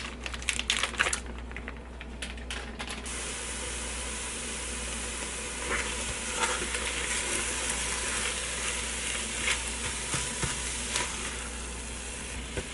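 Ground turkey browning in butter on sear/sauté high inside a Ninja Foodi, a steady dense sizzle with crackling spits throughout, a few louder clicks and scrapes at the start.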